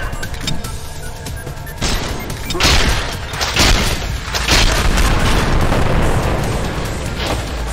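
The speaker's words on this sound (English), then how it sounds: "That was a massive explosion." Massive explosion in the video game Trepang2: a loud booming blast that rolls on amid bursts of gunfire, the rumble sustained and heavy for several seconds.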